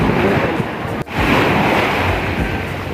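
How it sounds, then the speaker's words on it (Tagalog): Strong ocean waves wash onto a beach in a loud, continuous surge of surf and wind buffeting, with one brief dip in the rush. "Ang lakas ng alon."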